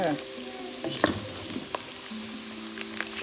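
Salted pork belly sizzles and crackles in a hot pan, with intermittent scraping and clanks of a utensil stirring, close up and moderately quiet.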